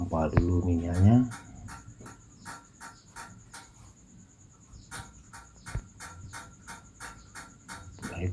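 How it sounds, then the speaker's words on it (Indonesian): Fuel is hand-pumped on a Yulin 2105 diesel rice mill engine, making a steady series of light mechanical clicks at an even rhythm. A brief voice is heard at the start. "Kita tes hidupkan dan kita pompa dulu minyaknya."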